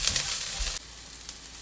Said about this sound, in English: Now add green chili, carrot and onions. Stir it on a high flame.